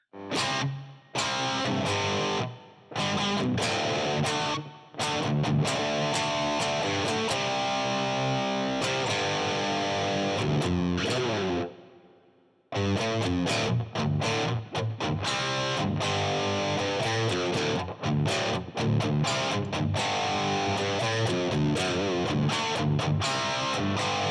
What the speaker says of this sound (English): Try a spring reverb.